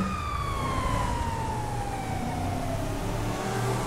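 A loud wailing police siren from a GTA 5 video game car sweeps steadily downward in pitch over a rumbling engine, continuous and close.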